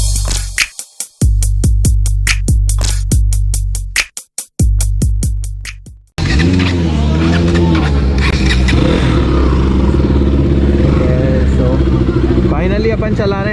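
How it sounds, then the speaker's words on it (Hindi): KTM Duke 200 motorcycle ridden on the road, first a series of sharp rhythmic engine pulses and revs with brief pauses, then continuous loud engine drone mixed with wind rush and a voice talking over it. "फाइनली अपन चला रहे हैं ड्यूक 200"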